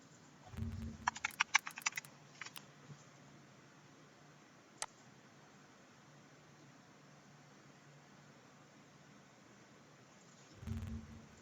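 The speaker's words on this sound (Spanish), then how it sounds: "Mantén presionado eso y presiona esto 2 veces." A few quick keystrokes on a computer keyboard, clustered near the start during an Excel shortcut demonstration, then a single faint tap and near-silence with low background hiss.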